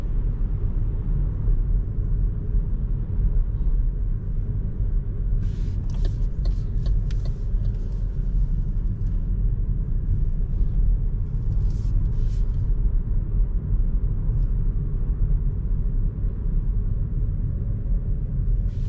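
Steady, loud road rumble inside a 2025 MG ZS hybrid on the move, a continuous low cabin drone with a few faint clicks and ticks partway through.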